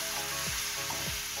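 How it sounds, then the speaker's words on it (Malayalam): Chicken pieces tossed into a hot pan for pepper chicken sizzle steadily, with a couple of scraping stir strokes cutting through the constant frying hiss; close and fairly loud, no voices. "നമുക്ക് ഇനി ഇതിലേക്ക് എടുത്ത് വെച്ചേക്കുന്ന ചിക്കൻ ചേർക്കാം. നന്നായി മിക്സ് ചെയ്ത്"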